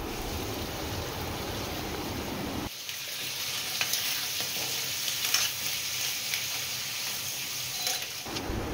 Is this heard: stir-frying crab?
yes